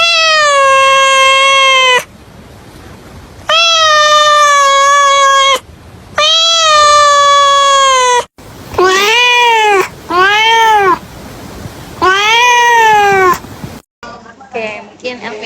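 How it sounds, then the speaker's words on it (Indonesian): A recorded cat meows loudly, played back during a counseling session, in a series of long, drawn-out cries separated by short pauses, with a few shorter, rising wails near the end. "yaitu mendengarkan suara kucing nih Elvina"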